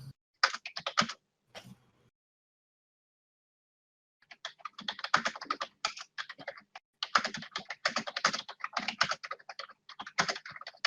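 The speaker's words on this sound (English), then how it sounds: "Is Andy typing out the plan?" Computer keyboard typing in quick bursts of close clicking, a short burst then a pause before a long steady run of keystrokes, heard during a tabletop card game session.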